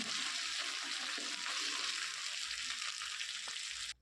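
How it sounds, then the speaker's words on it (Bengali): Sliced capsicum and onions frying in a pan give off a loud, steady sizzle that stays constant from start to finish, with no talking. "লম্বা করে কেটে রাখা ক্যাপসিকামটাকেও আমি হালকা করে ভেজে নেব এই পেঁয়াজের মধ্যে।"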